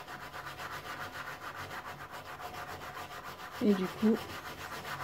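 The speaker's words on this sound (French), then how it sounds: "je frotte et je ramène plein de crasse" A wooden kneading trough is scrubbed with Eléoclean cleaner during dewaxing, giving a steady close rubbing hiss with two louder strokes near the end, and a voice speaks briefly.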